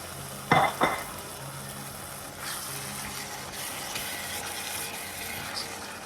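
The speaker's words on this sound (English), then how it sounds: "Now I'm going to add my chopped tomatoes." Three small chopped tomatoes cook in a dry pan without oil, making a steady soft sizzle after a couple of brief clinks at the start.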